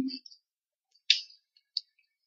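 Keyboard keys pressed on a computer to run a program, giving a few sharp, close clicks spread across a quiet moment, with one stronger tap near the middle.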